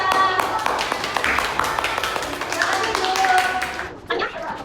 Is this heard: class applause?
yes